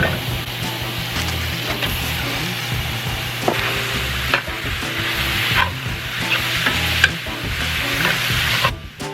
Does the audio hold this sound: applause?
no